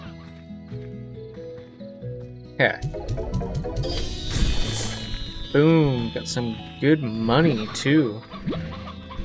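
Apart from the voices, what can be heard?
hens clucking in video game Slime Rancher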